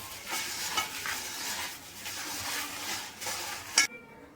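Atukula (poha) tempering being stirred and mixed in a pan, a soft steady scraping swish with a faint sizzle beneath, ending in a brief sharp clink before quieting.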